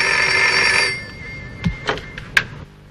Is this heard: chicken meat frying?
no